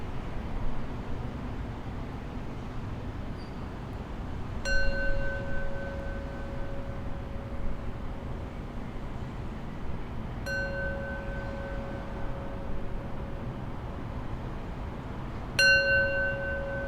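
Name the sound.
meditation bell rung three times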